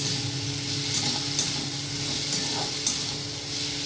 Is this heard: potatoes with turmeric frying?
yes